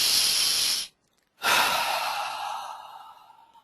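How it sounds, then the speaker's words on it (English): A deep inhale through the nose followed by a long exhale, close and breathy with a brief silent pause between the two breaths. "take a deep breath in through your nose and breathe out"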